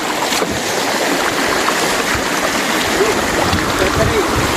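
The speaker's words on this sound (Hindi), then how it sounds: "पानी भी कितना बह रहा है" A fast-running stream being crossed on foot in forest country rushes loudly and constantly, with faint voices in the background.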